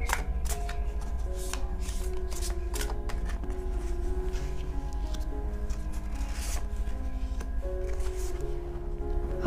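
Tarot cards are shuffled by hand in quick, rapid riffling bursts that repeat steadily through the whole stretch, close and crisp with no talking.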